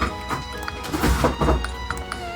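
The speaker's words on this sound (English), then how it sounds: "In case you're wondering what all that thumping is, that's my cat. Playing in a box." A cat playing inside a cardboard box, producing irregular dull thumps and bumps close by, several soft knocks over a couple of seconds.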